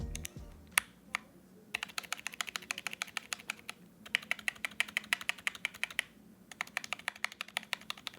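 Typing on a compact mechanical keyboard fitted with Chocolate Silver linear switches with 55-gram springs, heard as rapid bursts of crisp keystroke clicks separated by short pauses, close and clear with no talking.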